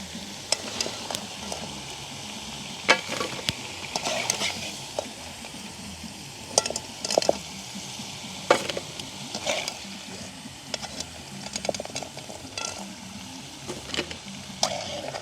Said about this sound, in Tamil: இப்படியே நாங்கள் மிச்ச கிழங்கையும் பொரித்து எடுத்துக்கொள்வோம்.